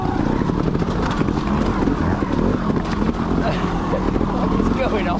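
A trials motorcycle engine running roughly, a steady close rasping drone with irregular wavering under wind buffeting on the microphone, while a person talks over it.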